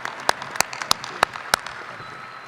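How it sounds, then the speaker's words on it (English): Hands clap at a university commencement, a handful of crisp, evenly spaced claps standing out over a faint background of softer clapping. "please stand for a robust round of applause for their contributions and achievements"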